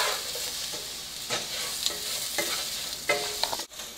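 Spiced, salted potatoes sizzle steadily in a pan, with scraping stirs and soft clinks of a spoon against the pan now and then, close and fairly quiet, with no voices.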